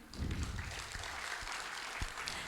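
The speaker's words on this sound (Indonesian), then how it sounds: "boleh kita berikan tepuk tangan?" A conference audience in Jakarta gives a soft, distant round of applause, an even wash of clapping heard faintly over low room rumble for a couple of seconds.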